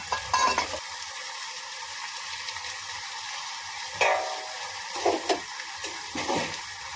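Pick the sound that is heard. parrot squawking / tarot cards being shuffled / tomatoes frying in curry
tomatoes frying in curry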